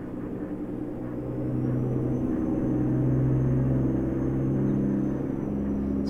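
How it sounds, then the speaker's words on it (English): A heavy truck engine in American Truck Simulator drones with a low, steady rumble that swells slightly louder midway and holds constant, with no talking. "it is a little bit loud, this truck."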